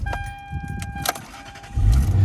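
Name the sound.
car engine starting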